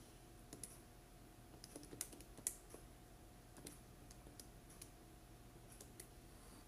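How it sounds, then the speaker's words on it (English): Light button presses on a calculator, a scattered series of soft, close clicks and taps in a quiet room, faint and unaccompanied by talk. "let me type this on my calculator here"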